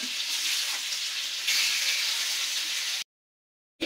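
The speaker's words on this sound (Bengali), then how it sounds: "এই যে আমার মাছগুলো ভাজি হয়ে গেছে" Koi fish frying in hot oil give off a steady, close sizzling hiss for about three seconds, then stop abruptly into silence.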